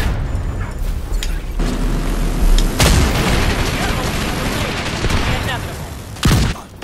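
Heavy booming video game mortar blasts hit twice amid a continuous rumble of distant gunfire and battle noise, one loud explosion early and another near the end.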